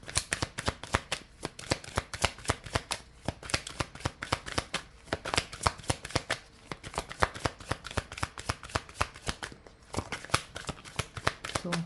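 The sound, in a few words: shuffling Inner Star oracle cards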